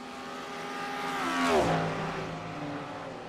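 Race cars at Road America, including a Cadillac, roar past on a fast sweeping corner, the engine note swelling to a loud peak then dropping in pitch as it fades, with no voices over it.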